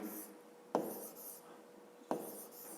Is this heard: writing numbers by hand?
yes